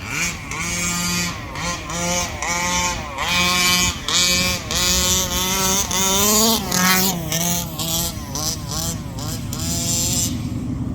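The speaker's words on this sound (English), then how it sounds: "that pipe is so big, it's a high rev pipe on it, so it's crazy fast and loud too" A Rovan Baja 5T RC car with a 36cc engine and a big high-rev pipe screams at full throttle, its loud, close, buzzing whine rising and falling in repeated surges as it revs and lets off.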